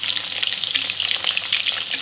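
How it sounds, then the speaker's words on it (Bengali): Chicken pieces frying in a pan over a medium-low gas flame for a white-sauce creamy chicken curry, a steady dense sizzle with crackling pops running throughout, close and fairly loud, no voices. "পিসগুলো এইভাবে এপিট ওপিট করে হালকা ব্রাউন করে ভেজে নেব"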